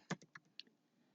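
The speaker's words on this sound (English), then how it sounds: "If I just start typing" Fingers tap a computer keyboard in a few separate keystrokes, close and fairly quiet, with short gaps between the clicks and no talking.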